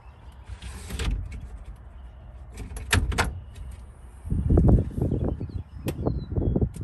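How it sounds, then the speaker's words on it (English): The side panel of a truck bed camper is opened, giving a motorized whir and sliding clunks, followed by louder bursts of rattling and rustling nearby. "I just opened up the side panel on the truck again"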